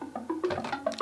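A plucky Sylenth synth runs through an arpeggiator, tumbling through quick short notes at varying pitches in a rapid pattern, close and moderately loud.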